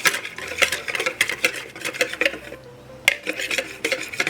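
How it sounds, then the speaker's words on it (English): A whisk beats real maple syrup into whole wheat blueberry muffin batter in a bowl. Quick rhythmic clicks and taps ring close against the bowl, with one short pause partway through. "I'm just going to beat it with a whisk until it's combined"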